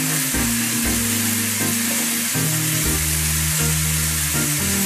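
Minced meat (keema) frying in a pan with spices as the water cooks off, a steady, close, continuous sizzle with faint stirring and no voices.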